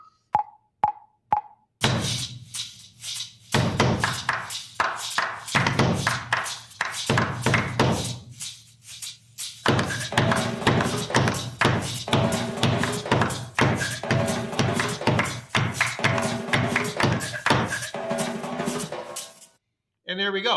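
Hands bang on a wooden desktop in a run of irregular thumps and taps, close and fairly loud, after a few short electronic beeps at the start.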